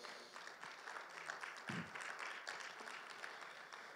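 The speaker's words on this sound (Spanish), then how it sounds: "¿Cuánto le dan un fuerte aplauso," Crowd applause at a Spanish-language church Bible class on Daniel and Revelation, a steady broadband wash of many hands clapping, fairly faint and distant, continuing evenly for the whole stretch without talk.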